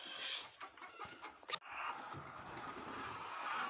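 Chickens cluck and call in a coop on an off-grid African homestead, a busy, fairly close jumble of short clucks with a sharp burst about midway, no talk over it.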